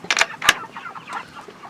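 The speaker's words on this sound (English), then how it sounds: "I'm gonna take this chicken with us." Farm chicken clucking in a few short, close bursts followed by softer, scattered clucks, with no talk over it.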